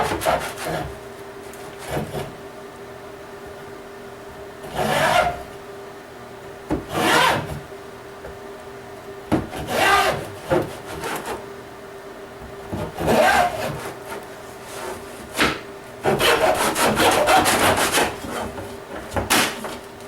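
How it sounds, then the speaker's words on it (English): A cheap hand saw cutting through a wooden dowel, with repeated rasping strokes in bursts separated by pauses, close and fairly loud. "even a cheap saw can achieve the same results"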